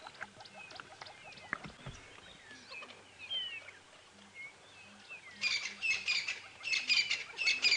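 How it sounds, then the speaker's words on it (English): A dawn chorus on a safari drive at sunrise, with hornbills, francolins, ground hornbills and starlings calling. Assorted chirps and whistles overlap at a distance, then a louder burst of rapid, bright calls builds near the end. "There's a cacophony of bird calls going on at the moment."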